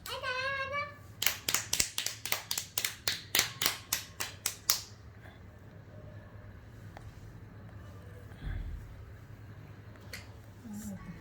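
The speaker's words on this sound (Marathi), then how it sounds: "टाळ्या वाजवा सगळ्यांनी." A small group of people, including children, clap along at a fair toy-boat moment, about a dozen sharp, rhythmic claps close by over a few seconds, with a voice just before and quiet background afterward.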